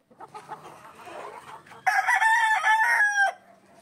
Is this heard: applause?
no